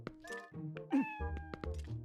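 Cats meowing in the video game Twilight Princess HD: a close series of several distinct meows in quick succession, with small thunks between them.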